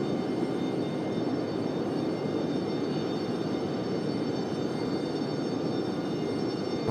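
American and Frontier airliners arriving at Raleigh-Durham airport, heard as a steady, even jet engine roar at moderate distance that holds without a break for about seven seconds.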